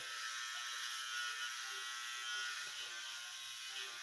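An electric shaver runs steadily while a head is being shaved, a constant close high-pitched buzz with slight variations as it moves over the scalp, no talking.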